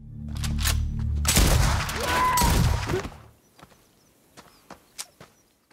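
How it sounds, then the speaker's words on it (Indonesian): Gunfire in an action film as intruders hiding in a house are shot: a loud, dense burst of rapid shots and echoing blasts, followed by quieter scattered clicks and footstep-like knocks. "John pun langsung menembak beberapa penyusup yang sempat bersembunyi di rumahnya itu."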